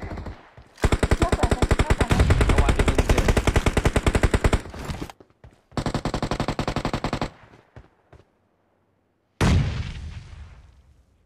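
Gunfire in the mobile game PUBG Mobile: long bursts of rapid automatic shots, loud and close, broken by short pauses, ending in a sharp blast with a fading tail.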